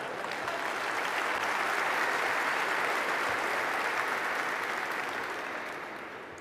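A conference audience at the Madrid Economic Forum claps for several seconds during an economics talk, a dense, moderately faint round of applause that swells and then fades.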